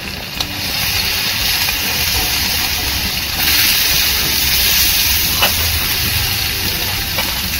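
Cumin, garlic and onion sizzle in hot oil for brinjal bharit, a loud, dense, steady hiss that holds evenly from start to finish with a few small crackles and no voices.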